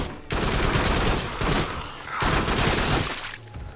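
Shotgun fire in the VR shooter Farpoint, heard as dense, loud bursts of blasts in two long volleys separated by a brief gap, close and harsh with no talking, ending in a quieter tail.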